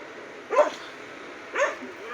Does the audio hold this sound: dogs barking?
yes